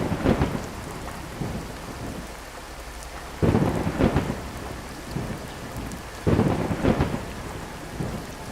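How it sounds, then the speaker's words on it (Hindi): Storm sound effect of heavy rain hissing steadily, broken by three loud thunder crashes in close succession, each rolling and rumbling before fading; a strong wind blows beneath the downpour throughout, with no voices. "तेज हवाएं चलने लगती हैं, जैसे कि कोई तूफान आ गया हो।"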